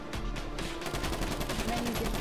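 Rapid, steady automatic gunfire in the video game Grand Theft Auto V rattles on without a break. The shots are loud and close, with no speech over them.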